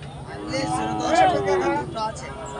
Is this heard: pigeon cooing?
no